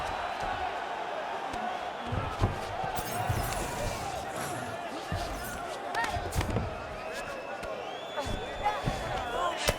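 Virtual arena crowd in a UFC 5 women's MMA fight, Mackenzie Dern against Tabatha Ricci, keeps up a steady murmuring roar with sharp swells and thuds as strikes land, while commentary runs over it.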